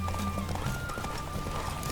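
Horse galloping in a video game horse race, a rapid steady clatter of hooves at close range under a constant background hum.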